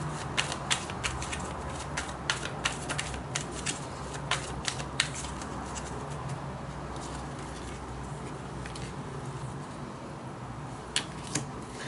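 Tarot cards being shuffled in a steady run of soft papery riffles and flicks over a low background hum, no talking.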